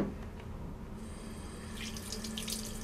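Cold water runs steadily from a tap into a sink in a Lviv home during a hot-water shutoff, a continuous close splashing stream that brightens and grows more spattery partway through, with no voices.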